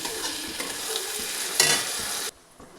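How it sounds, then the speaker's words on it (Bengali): Ginger garlic paste frying with tomatoes and green chillies in a pan gives a steady, close sizzle with a brief louder burst of stirring before it drops off abruptly near the end. "এখন দিয়ে দিলাম আদা রসুনের পেস্ট এটা ভালো করে ভেজে নিচ্ছি"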